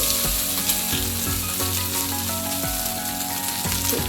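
Neer dosa batter fries in a little oil on a pan, giving a steady, close, continuous sizzle with faint soft scraping or stirring touches.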